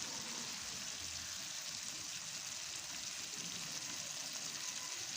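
Aloo gobi, potato and cauliflower pieces, sizzles steadily in a pan as it is fried, a soft even crackle throughout with no talking.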